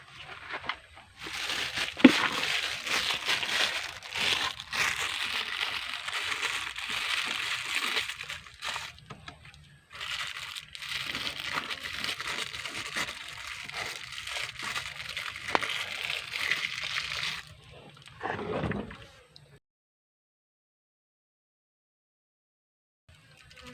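Crinkling plastic being fitted over the fuel opening of a mini chainsaw, with rustling, crumpling handling sounds in bursts separated by brief pauses, ending in quiet.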